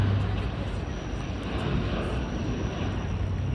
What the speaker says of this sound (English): This one's just coming in from Ottawa right now. It's landing on the Island Airport.